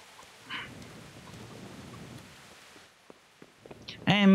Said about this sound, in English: Sheltered from the rain.